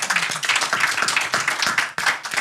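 A crowd claps briskly and steadily, a dense patter of many hands filling the short moment at close range.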